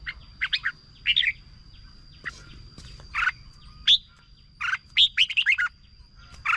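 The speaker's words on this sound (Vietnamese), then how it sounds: "Giọng con mồi này tuy là non thật nhưng mà mình chưa thấy nó lẫn một tí giọng nào chim non anh em ạ" A young red-whiskered bulbul kept as a decoy bird sings short, bright chirps and warbled phrases in scattered bursts, close and clear over a quiet low background hum.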